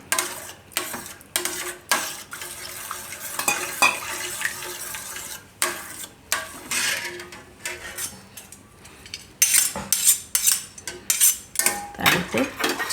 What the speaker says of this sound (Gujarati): આ રીતે ચમચાથી મિક્સ કરી દેવાનું.